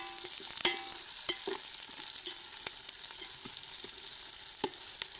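Chopped onion, curry leaves and green chilies sizzle steadily in hot oil for a biryani base, a constant close frying hiss broken by a few sharp crackles and spatters, with no talking.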